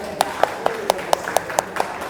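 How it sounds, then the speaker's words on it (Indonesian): Students clap their hands in a steady, even rhythm, about eight sharp claps spaced a quarter-second apart, close and clear over a quiet room. "Tepuk tangan"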